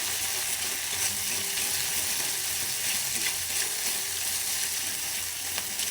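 Chicken frying in a hot pan, a dense, steady hiss of sizzling oil that stays close and loud throughout, with no talking.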